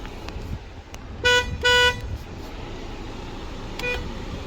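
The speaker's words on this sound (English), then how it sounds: "Let's give it a little honk." Two short car horn honks in quick succession from a 2023 Honda HR-V Sport, followed by a fainter third toot, over quiet outdoor traffic noise.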